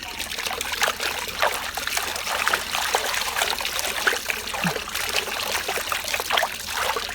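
Continuous water spray from a water gun in a truck-washing video game, a steady hissing, trickling stream that runs throughout with no talk.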